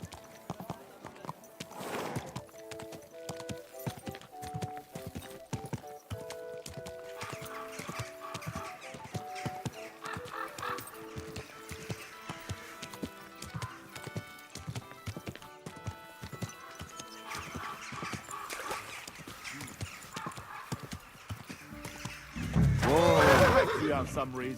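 Horse hooves clip-clop steadily on a road in Kingdom Come: Deliverance II under game music, with a loud neigh near the end and voices speaking at times.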